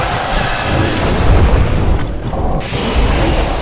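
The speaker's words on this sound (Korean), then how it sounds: "중력 폭탄" A gravity bomb detonating in a video game on hard mode, a loud, deep boom with a rumbling, artillery-like body that fills the whole stretch and briefly thins before returning.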